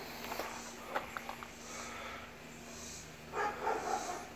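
A curious dog sniffing around up close: soft, quick snuffling breaths in short bursts, faint under a quiet background hum.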